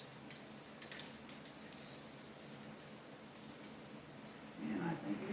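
Short bursts of spray paint hiss onto a Mustang gauge bezel, several quick puffs spaced apart, close and fairly quiet, with a faint voice at the end.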